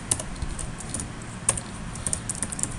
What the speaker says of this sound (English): you're going to have to get used to typing system.out